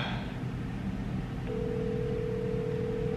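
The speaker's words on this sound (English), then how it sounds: "let's make some phone calls" A phone call rings out unanswered: after a moment of background rumble, a faint, steady electronic ringing tone starts and holds on without a break.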